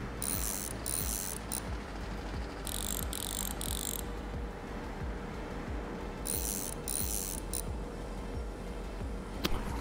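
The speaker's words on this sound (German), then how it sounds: "Das kann ich nur nachvollziehen, dass wir die Bolzen rausdrehen müssen." A ratchet clicks in repeated rapid bursts while unscrewing brake bolts in the Bus Mechanic Simulator video game, set over a steady mechanical hum that runs throughout, with no talking.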